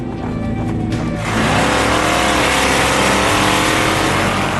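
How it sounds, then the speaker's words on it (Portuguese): Drag race cars on a converted airport runway strip at Gimli, a loud engine roar swelling abruptly into a sustained high-revving blast that stays close and dominant to the end. "A pista de aterrissagem de Gimli havia sido transformada em uma pista de corrida de drag cars."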